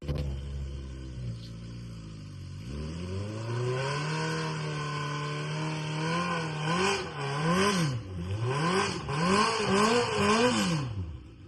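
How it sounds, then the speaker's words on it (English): A kei truck with a swapped Suzuki GSXR1000 motorcycle engine idles low, then revs hard through repeated rising and falling bursts while doing a burnout, loud and close with no talk. "We also did a nice little burnout, but camera was charging, so we'll have that on the iPhone clip right here"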